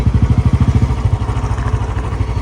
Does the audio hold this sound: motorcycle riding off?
yes